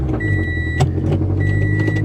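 A turbocharged Toyota 86 engine turns over by push-button start and settles into a steady idle, broken by two short electronic chimes and a brief click.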